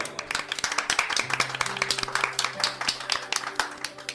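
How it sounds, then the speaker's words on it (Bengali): Audience applause greets the women honoured in a special Eid drama, a steady patter of many hands clapping at moderate level for about four seconds, with no voices over it. "হাততালি দিয়ে অভিনন্দিত করতে চাই আবারও।"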